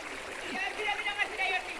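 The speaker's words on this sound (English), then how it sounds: "Nice with running water" Water running in a river, a steady rushing and splashing flow heard close by, with a person talking over it.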